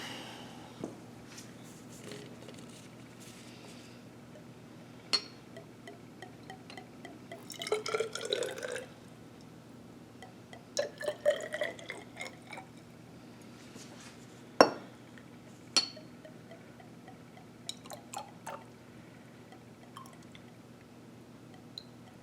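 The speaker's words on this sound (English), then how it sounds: "I'm going to use a graduated cylinder to measure out the 50 mils" Water being measured into a glass graduated cylinder in a lab, heard as scattered small drips, pours and faint glassy clinks against a quiet background hum, spread irregularly across the span.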